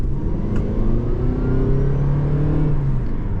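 A 2026 Toyota Prius PHEV XSE Nightshade plug-in hybrid pulls away hard in sport mode, its steady rumbling drone climbing smoothly in pitch as it picks up speed, close and continuous with no talking.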